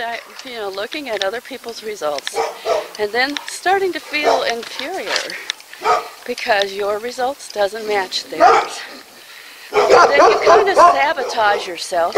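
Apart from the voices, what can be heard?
dogs barking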